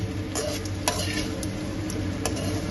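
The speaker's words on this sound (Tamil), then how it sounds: "ஊறி இருக்கிற சேவை இதை வந்து சேர்த்திடலாம் நல்லா வணக்கிக்கங்க" Soaked sevai rice noodles with onions are stirred in a hot pan, with a steady sizzle under repeated scraping and metallic clicks of the spoon, close and loud.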